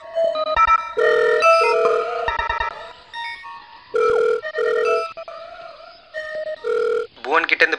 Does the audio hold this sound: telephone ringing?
yes